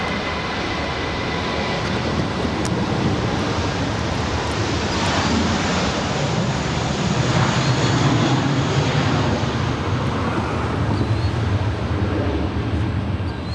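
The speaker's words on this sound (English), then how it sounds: "That is American Airlines Flight 382 departing to Boston. It's an Airbus A321." An American Airlines Airbus A321 departing Los Angeles LAX, a loud broad jet roar that stays steady and swells slightly midway, heard from a distance outdoors with no pause.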